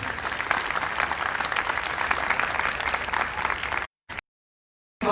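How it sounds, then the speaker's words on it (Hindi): Sustained applause from a church congregation, many hands clapping evenly and fairly loud for several seconds before it abruptly cuts out into silence. "हम भरपूर तालियां बजाएंगे"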